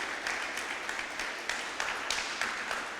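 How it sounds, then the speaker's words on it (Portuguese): A church congregation applauds for Jesus, a dense wash of many hands clapping steadily throughout, moderately distant and even, with a few sharper claps standing out. "Uma salva de palmas para Jesus."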